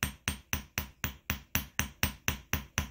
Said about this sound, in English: This time we're going to use the polished ball peen end.